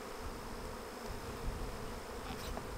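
A caught swarm of honey bees hums in a steady, dense drone, close and continuous, with individual bees whining past now and then and no voices.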